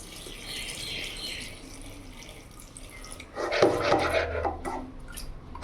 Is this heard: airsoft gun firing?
no